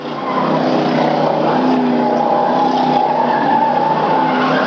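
Stock cars roaring along the front stretch of a short oval race in 1994, a loud, sustained engine drone holding steady for several seconds as the pack passes close by.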